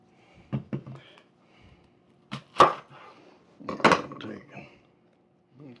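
A knife cuts an onion on a chopping board, giving a few scattered, sharp knocks and taps with quiet gaps between them, close and moderately loud.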